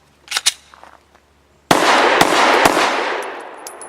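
Folding pistol firing Federal 124 grain HST rounds outdoors: a couple of faint distant pops, then a loud close shot followed by a rapid string of further shots with a long ringing decay.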